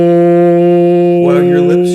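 A voice imitates a Gregorian chant, holding a low, steady sung tone loudly and close, then wavering into a trembling, breathier texture near the end.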